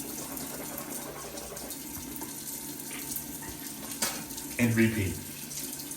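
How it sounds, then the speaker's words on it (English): Tap water runs steadily into a sink while a mouth is rinsed out several times, with a brief louder splash near the end and a short spoken phrase over it. "So what we do is just scrape, rinse out a bunch of times."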